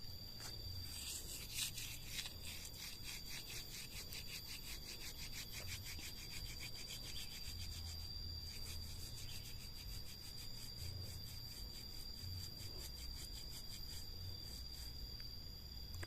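Bandotan leaves are rubbed by hand to soften them, a faint, continuous dry rasping and scrubbing close by, with no talk over it.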